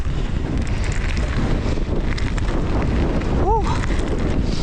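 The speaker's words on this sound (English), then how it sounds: "I am just rolling these jumps because it's super windy" Strong, gusting wind roars across the microphone during a mountain bike ride on a trail at Trexler Nature Preserve in Pennsylvania, loud and continuous, with a brief whistling tone near the end.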